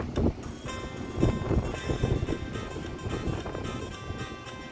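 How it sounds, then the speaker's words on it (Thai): Strong wind blowing outdoors on a rainy morning, a steady broadband rush with gusty surges buffeting the microphone throughout, no talking. "ฝนจะมาแต่เช้าเลยนะเนี่ย ลมแรงมากค่ะ"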